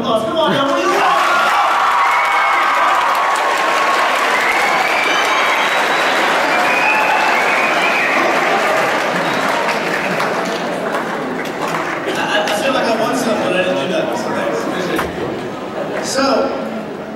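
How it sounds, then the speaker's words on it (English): A large high school audience breaks into loud, sustained applause and cheering with whoops and shouts, a dense roar that holds steady for its whole length and eases only slightly toward the end. "can we give me a real round of applause?"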